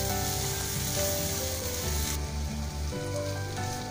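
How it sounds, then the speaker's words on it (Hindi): Tomatoes and spices including black pepper and salt fry in a pan for keema parathas, giving a loud, dense, continuous sizzle close by with no voices. "हमारे टमाटर और मसाले अच्छी तरह भून चुके हैं"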